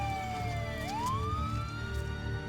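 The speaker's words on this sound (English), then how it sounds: "Ambulances arrive within minutes." An ambulance siren wails in a smooth rising and falling sweep, fairly faint and steady over a low background hum.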